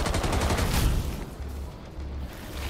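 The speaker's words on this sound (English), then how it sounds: "Aim at the anchor points and shoot when they open." Rapid bursts of gunfire from an operator shooting the anchor points of an Arc Tree in the video game Rainbow Six Extraction, loud and close, rattling in quick succession before easing into a lower rumble.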